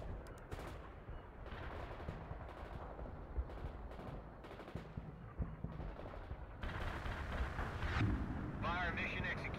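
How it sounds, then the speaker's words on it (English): Artillery fire in the World in Conflict Soviet Assault game, a dense run of booming blasts and crackling shots that keeps going for the whole stretch and swells louder near the end, with speech mixed in. "Artillery firing."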